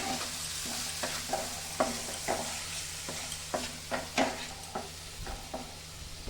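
Spices with Kashmiri chili powder fry in a pan with a little water for a white paneer dish, a soft continuous sizzle broken by a regular series of spatula scrapes and taps, close and fairly quiet.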